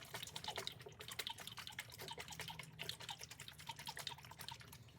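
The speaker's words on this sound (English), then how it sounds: "to wash your face, I'm gonna use my Spider-Man water" Water poured from a Spider-Man water bottle onto a towel, a soft continuous trickle with fine dripping patter, quiet and close throughout.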